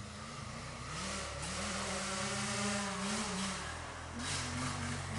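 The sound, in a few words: two-stroke and four-stroke motocross bikes running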